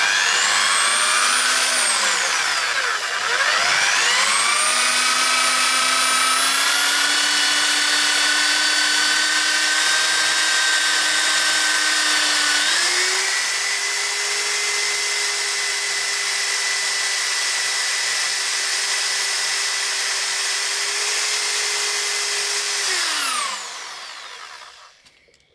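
Power tool polishing the rear suspension bearing carrier of a Honda Sportrax 300EX quad, a loud, close whine holding steady for over twenty seconds, its pitch dipping and rising under load before spinning down at the end.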